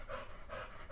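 Dog panting in quick rhythmic breaths, soft and close, with a few short puffs and no other sound.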